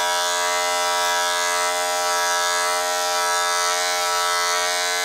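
Electric hair clippers drone steadily and loudly while fading the back of a head, a continuous high buzz with no break and no talk.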